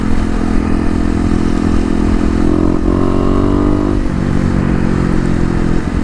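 A 2018 Kawasaki KLX250 with a Mega Bomb exhaust rides through the city, its engine droning steadily and loudly with slight pitch shifts as it accelerates and eases off, with wind and road noise and no voices.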